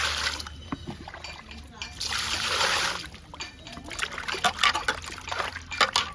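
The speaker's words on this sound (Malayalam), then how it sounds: "ഈ വേസ്റ്റ് വെള്ളം അങ്ങോട്ട് പോകട്ടെ ഒന്നും കൂടി കഴുകണം" Water runs and splashes steadily while fish are rinsed, trickling and splattering close by with uneven bursts, and a person talks over the flow throughout.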